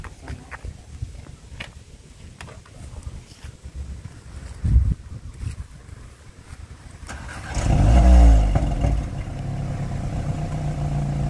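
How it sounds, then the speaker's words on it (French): Volkswagen Golf 7R estate with exhaust flaps open: after some quiet shuffling and a thump, the engine cranks and fires with a sharp rising flare of revs, then settles into a loud, steady idle rumble. "tu nous la démarres pour qu'on entende le son à l'arrêt. Tu nous feras ouvrir les clapets comme ça"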